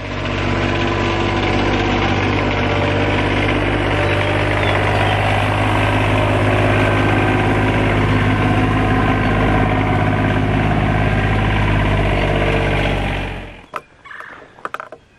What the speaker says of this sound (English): Let's fire the tractor back up